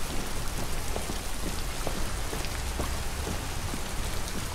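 Steady heavy rain in the video game Detroit: Become Human pours down continuously, a dense hiss with scattered droplet taps, no voices.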